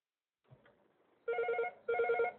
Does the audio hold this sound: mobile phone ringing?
yes